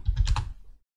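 A short burst of typing on a computer keyboard, a few quick close clicks entering a command, then silence.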